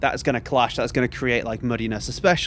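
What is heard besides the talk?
None of the usual background noises is heard.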